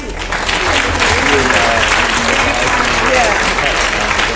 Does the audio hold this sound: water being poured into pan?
no